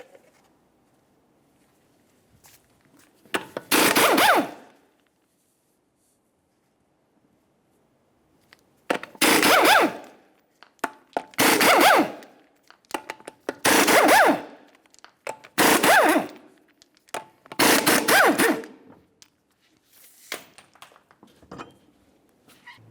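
Six 19mm lug nuts and the front wheel coming off a Chevrolet truck, heard as a series of loud bursts from a pneumatic impact wrench, each lasting about a second, separated by quiet gaps.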